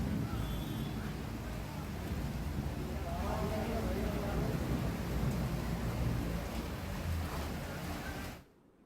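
Heavy rain in Hyderabad pours in a dense, steady roar with deep rumbling underneath, continuous until it cuts off abruptly at the end.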